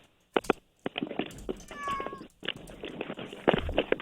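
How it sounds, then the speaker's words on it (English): A cat meows once in a drawn-out, wavering cry amid ongoing conversation in a live radio studio, with several voices talking around and over it. "Wait, where's this cat coming from?"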